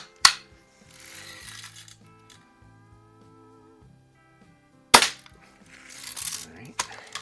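A vintage 1947-49 Daisy No. 111 Model 40 Red Ryder BB gun fires twice in a garage at a splatter target, each shot a sharp snapping crack about five seconds apart, followed by faint rattling handling noise.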